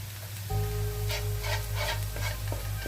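Minced garlic hits a hot pan and settles into a steady, close sizzle with faint scraping of stirring, running continuously with no talk.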